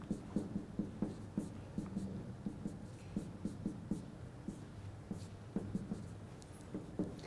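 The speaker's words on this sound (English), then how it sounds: "let me write one more time" Chalk or marker taps and scratches on a board during a signals and systems lecture, a steady run of short, rhythmic strokes close by with room tone and no talk.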